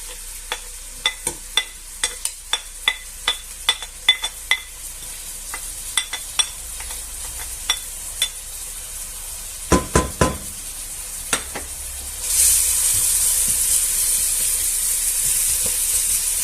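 Onion and garlic in a pan on medium heat, starting with a run of sharp taps and scrapes as they are stirred in, then turning into a steady, bright sizzle of frying that carries on alone.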